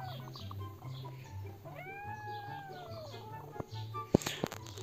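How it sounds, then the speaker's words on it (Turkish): A cat meows once in the video game Undawn, a clear drawn-out call over a low steady hum, followed by a few sharp clicks near the end. "Ha kedicik."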